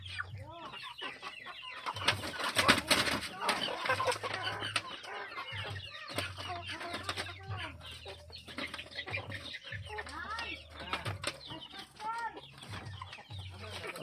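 Native chickens on a Philippine farm, a hen and a rooster, cluck repeatedly at close range with some wing flapping, while a low hum runs underneath and a voice speaks briefly.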